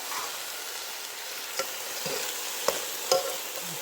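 Carrots and onions sizzle as they brown in a pan alongside pork for a Puerto Rican stew, a steady close hiss broken by a few sharp utensil taps.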